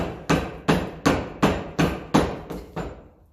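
A hammer strikes timber laid over a 1954 Ferguson TEF 20 diesel tractor part to press out a rod, giving eight sharp, evenly spaced knocks that fade slightly toward the end.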